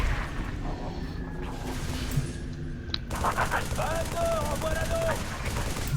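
Sniper Jackals fire in Halo 3 ODST amid dense, continuous game gunfire and explosions, loud throughout with tonal game effects layered over the battle.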